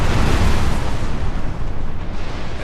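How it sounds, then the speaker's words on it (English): A ship blows up in a Napoleon: Total War naval battle, a loud, dense rumbling blast that fills the whole clip with broad, sustained low roar and crackle, with no voices. "Oh, and an explosion."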